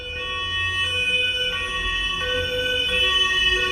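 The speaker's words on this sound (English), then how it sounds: "This is an American ambulance." A modern American ambulance siren cycles loudly nearby, its tone jumping between pitches at regular intervals of under a second, over a low vehicle rumble, with no voices.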